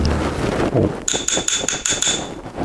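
Rapid metallic hammer taps ring out against a car body panel near the trunk floor, a bright high-pitched clatter of about ten quick strikes after a brief muffled lead-in.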